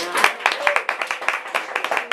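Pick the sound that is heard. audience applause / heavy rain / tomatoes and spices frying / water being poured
audience applause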